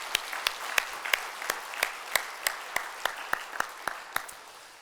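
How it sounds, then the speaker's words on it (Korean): At a Korean church Thanksgiving Sunday service, a congregation claps in a steady, evenly spaced rhythm, each clap crisp and distinct, fairly faint and somewhat distant in a reverberant hall. "먼저 영광과 감사의 박수를 한번 올려드리겠습니다"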